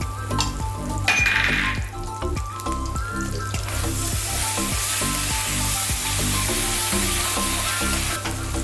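Mushroom masala fries in ghee, a dense continuous sizzle that swells after a spoonful goes in, with repeated light spoon taps and stirring scrapes against the pan.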